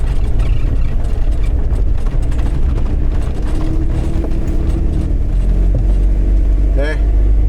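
A car rolling slowly along a state forest road in the Apalachicola swamps, with a steady low rumble, crunching and rattling from the tires and body, and a person speaking over it.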